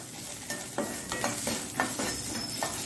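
Grated carrot frying for a Mangalore-style chutney, with a constant soft sizzle in a pan and rhythmic scraping strokes from a spatula, close and steady without talk.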